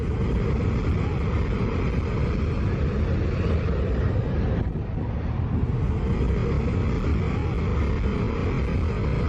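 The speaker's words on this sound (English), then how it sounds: "aircraft descend low over the beach, often just meters above the heads of onlookers" An aircraft descends low over a beach, making a loud, continuous broadband roar that holds steady for the whole stretch with only a brief dip midway.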